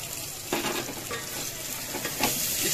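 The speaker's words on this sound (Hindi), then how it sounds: "अभी इसमें हम लोग टमाटर भी ऐड कर लेंगे। और टमाटर ऐड करने के बाद इसे हम अच्छे से वापस मिक्स कर लेंगे" Tomatoes being stirred into onions frying in a pan, giving a steady sizzle with scraping stir strokes at intervals, close and continuous with no talking.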